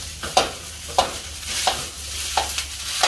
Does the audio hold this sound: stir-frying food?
yes